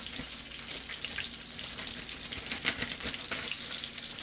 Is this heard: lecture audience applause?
no